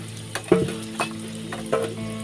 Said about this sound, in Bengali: আমার আলুগুলো ভাজা হয়ে গেছে, এবারে আমি আলুগুলো তুলে নিচ্ছি